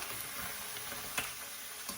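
Steady, close sizzling of chicken frying in a pan for charsi karahi, with a few clinks and scrapes of stirring breaking through.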